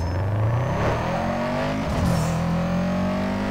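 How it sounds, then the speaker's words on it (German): A car engine revs hard in the video game Need for Speed Underground 2, its rising whine climbing steadily with a brief gear-change dip midway, loud and continuous with no talk. "Das hört sich schon geil an, das Auto"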